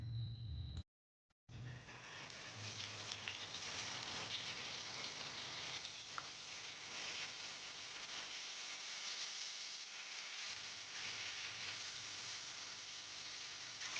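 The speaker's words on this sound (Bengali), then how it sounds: "গ্যাসটাকে মিডিয়াম টু হাই ফ্লেমে রেখে মাছগুলো ভেজে নেব।" Pieces of rohu fish frying in mustard oil over a medium-high gas flame, a steady close crackling sizzle with fine spatter, broken by a brief silent gap near the start and then continuing evenly.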